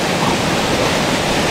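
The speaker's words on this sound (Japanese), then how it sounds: "滝みたいなところ、まあ水があったら激しいですね。" River water rushes through waterfall-like rapids at Ohsugi in Komatsu, a loud, close, unbroken roar of churning water with no other sounds over it.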